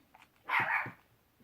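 One dog bark, a bit drawn out with a throaty edge, heard alone against a quiet background.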